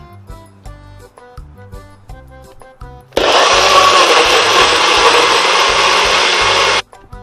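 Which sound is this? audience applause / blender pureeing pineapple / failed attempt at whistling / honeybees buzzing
blender pureeing pineapple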